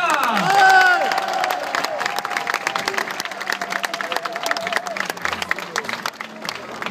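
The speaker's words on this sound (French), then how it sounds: "Les applaudissements suivants des supporters des Zèbres pour Guillaume François" Supporters of Sporting Charleroi, the Zebras, applaud and cheer for midfielder Guillaume François at a club fan day. Steady crowd clapping runs under whoops and shouts, with a voice calling out near the start.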